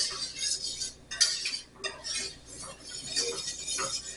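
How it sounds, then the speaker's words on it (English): A spoon scrapes and clinks around a pot of lobster thermidor sauce as it heats toward a boil, a quiet, irregular metallic swishing and tapping repeating steadily, no voices. "We're not done stirring. We're going to continue stirring."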